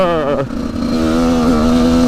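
An 85cc dirt motorcycle during its break-in period, its engine buzzing loud and close with a steady rising and falling drone as it is ridden.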